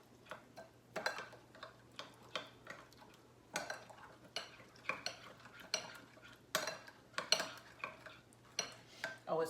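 A spoon stirs Korean kalbi short-rib marinade seasoned with salt in a bowl, giving faint, rhythmic clinks and scrapes with quiet pauses between strokes.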